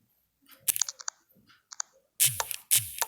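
Sharp, brief computer mouse clicks, a few isolated ones and then two louder clicks close together, while someone navigates the menus of the Downtown Mafia game.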